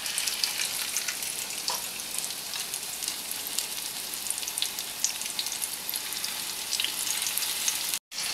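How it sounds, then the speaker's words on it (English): Small pieces of mozzarella cheese fry in oil over medium heat, giving a steady close, dense crackling sizzle with fine popping that continues unbroken throughout. "So your next step is to fry these little suckers"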